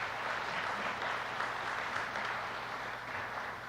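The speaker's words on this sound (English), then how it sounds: "Yeah, you can applaud that." An audience at the 2025 Ohio Fire Service award ceremony applauds with steady, even clapping that fills the room throughout the short stretch.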